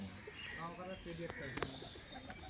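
Pigeons coo in soft, repeated low calls, fairly close, with faint background noise and a voice mixed in.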